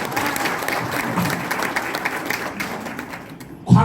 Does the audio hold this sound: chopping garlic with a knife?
no